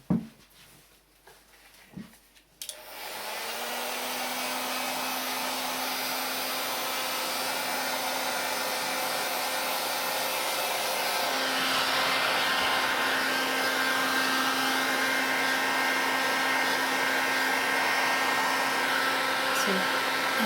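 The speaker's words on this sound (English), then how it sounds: "So I've got a very powerful industrial dryer." After a few soft clicks and handling noises, a powerful industrial dryer switches on and roars steadily and loudly, with a constant whining hum, until the end.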